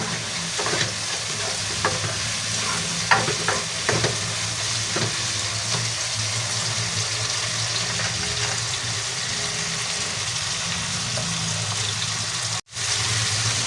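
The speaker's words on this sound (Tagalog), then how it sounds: "Hintayin po natin maligis ng mabuti yung kamatis para lumabas yung kanyang katas" Tomatoes frying in a pan for ginataang bangus, a steady soft sizzle under occasional stirring scrapes and light clinks, close and continuous, with one brief dropout near the end and no talking.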